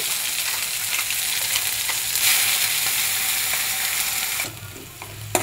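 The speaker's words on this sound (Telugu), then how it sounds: "ఏదైతే మిక్సీ పట్టుకున్నామో ఉల్లిపాయది అది వేసేయాలి" Ground onion paste frying in hot oil for a spinach and onion curry, a dense, loud, continuous sizzle close up that eases slightly near the end, with a final clink and no voices.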